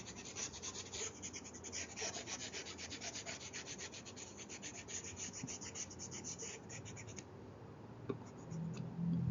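An eraser rubs writing off a board in quick back-and-forth scrubbing strokes, close and steady, then stops near the end, with faint room noise under it.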